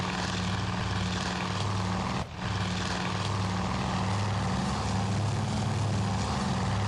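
Propeller float plane in the naval strategy video game Task Force Admiral drones loudly and steadily as it goes down, a sustained buzzing engine roar with one brief dip partway through.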